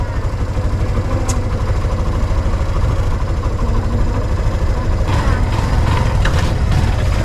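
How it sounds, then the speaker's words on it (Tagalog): Motorcycle engine idling as it warms up, a steady close low-pitched chugging rumble throughout, with faint clatter and brief background sounds near the end. "Painit-initin ko muna itong makina ng ating motor."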